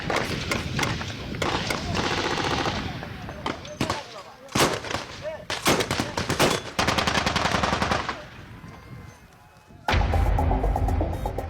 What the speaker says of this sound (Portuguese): Terroristas escondidos num vilarejo próximo começam a mandar balas traçantes na direção do acampamento. Os soldados respondem.